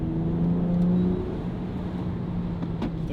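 A BMW X3 M with a Valvetronic Designs exhaust and its valves closed gives a subdued, steady low hum, muted and smooth, with a small dip in level after the first second.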